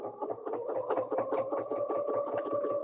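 A sewing machine stitches a quilt using ruler quilting, running in a steady rapid rhythm of even needle strokes over a motor hum, close and moderately quiet.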